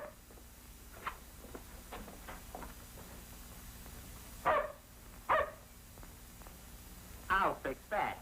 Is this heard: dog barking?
yes